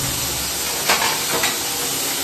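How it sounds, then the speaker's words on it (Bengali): Potatoes sizzle steadily while frying in a home kitchen pan, a dense continuous crackle with a couple of brief louder bursts, no voices. "যা চড়বড়ানি আওয়াজ"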